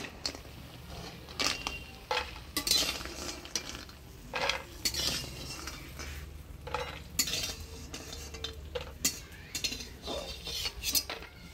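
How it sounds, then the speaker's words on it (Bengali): Fried kalai dal boris (lentil dumplings), browned to a reddish colour, lifted out of a pan with a spoon: repeated metal clinks and scrapes against the pan over a faint oily background, with no talking. "ডালের বড়িটা লাল লাল করে ভেজে নিলাম, এবার তুলে নিই"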